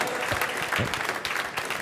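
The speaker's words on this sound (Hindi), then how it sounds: "एक बार हमारे दोनों जजेस के लिए जोरदार तालियां." Steady applause from an audience at a singing contest, saluting the judges, fills the whole stretch with dense, even clapping at moderate loudness and no voices over it.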